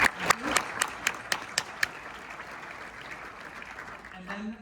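Scattered hand clapping from a small audience at an anniversary awards presentation, a handful of distinct claps that thin out and fade into quiet room noise.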